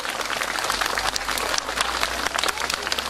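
An audience at a kindergarten school-year opening ceremony in Mangalia applauds steadily, a dense, even patter of many hands that carries through the whole stretch.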